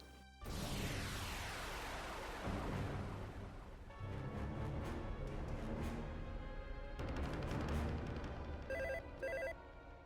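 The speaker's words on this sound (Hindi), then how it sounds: "देखो फोन आया।" A telephone rings steadily and loudly for several seconds amid a busy, dense background, with repeated electronic ring bursts near the end.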